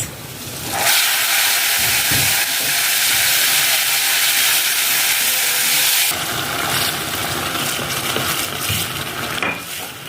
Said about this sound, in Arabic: دوك نصبو الماء في الرز